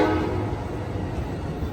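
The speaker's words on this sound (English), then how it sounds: "they got that train on its way to San Jose" Amtrak Capital Corridor train departing Oakland Coliseum station, heard as a loud, steady rumble of rolling rail cars and engine noise, close by and continuous, with no voices.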